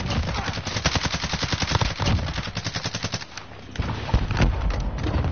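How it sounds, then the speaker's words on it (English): Rapid automatic gunfire in a first-person shooter game, a long fast burst of sharp repeated shots close up, a short pause, then more bursts and single heavy shots, loud and dominant throughout. "who the fuck is shooting?"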